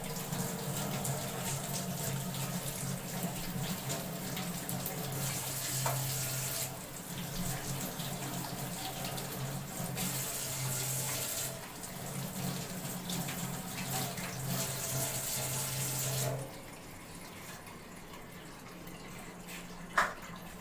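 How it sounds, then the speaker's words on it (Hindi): Mangoes being washed under a running kitchen tap: a steady rush of water splashing for about sixteen seconds, then a quieter trickle and a brief clatter near the end. "इनको पानी के साथ अच्छी तरह से धो लेना है।"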